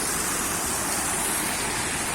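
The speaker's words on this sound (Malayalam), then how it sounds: "വെള്ളച്ചാട്ടം എന്ന് പറഞ്ഞാല് ഇത് വെള്ളച്ചാട്ടം മോശമൊന്നല്ല, നല്ല വെള്ളച്ചാട്ടം" A waterfall roars in a steady, dense rush of crashing water that fills the whole clip, close and even in loudness with no voices.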